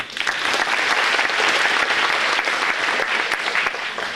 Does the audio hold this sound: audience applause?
yes